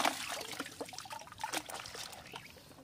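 Water pours from a bucket during oyster and shellfish gathering, a broken trickling and splashing stream that runs steadily for a few seconds at moderate loudness with no talk over it.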